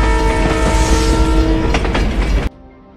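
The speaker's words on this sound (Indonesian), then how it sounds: "Sucre melihat ada kereta melintas di depannya" A loud train rumbles and clatters past up close, with a steady tonal hum and rhythmic rail clicks, then cuts off abruptly to quiet.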